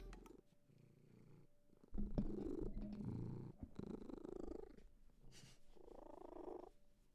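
A house cat purrs close to the microphone, a low, rhythmic rumble that swells and fades in breaths, with quiet room sounds and no talking.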